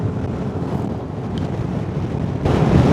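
Steady wind roars across the microphone of a motorcycle touring fast downhill along the southern Java route near Pacitan, a broadband rushing that swells louder toward the end, with no voices.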